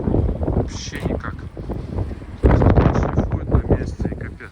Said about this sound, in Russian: Потому что очень сильный ветер.